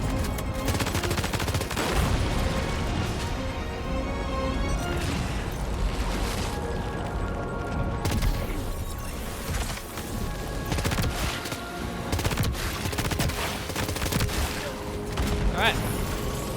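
Level 2 assault rifle fire in the Death Stranding 2 video game, a busy stretch of rapid shots and bursts with occasional heavier booms, running continuously at moderate loudness beneath a talking voice.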